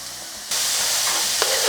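Vegetables and cherry tomatoes hit a hot pan for a frittata, a quiet hiss jumping into a loud, steady sizzle partway through, with faint stirring.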